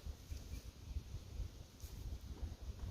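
Wind on an outdoor disc golf course rumbles faintly in low gusts, buffeting the microphone steadily with no other clear sounds.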